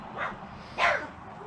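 Two short dog barks or yips come from close by at a campground, the second louder, over a steady outdoor background hum.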